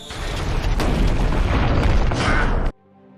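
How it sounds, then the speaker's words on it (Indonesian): A plane crashing and exploding in a zombie disaster film, with its engine blowing up: a loud, dense roaring blast rumbles for nearly three seconds, then cuts off abruptly into near silence. "sementara para zombie terlempar keluar dan menyebabkan mesin pesawatnya meledak"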